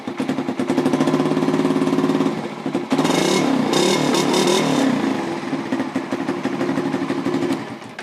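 A Suzuki Satria FI 150 motorcycle fitted with an aftermarket BRT Juken 5 ECU, electric start slow to catch, cranks and fires, then revs loudly and steadily close by with a sharp burst of throttle midway, no talking.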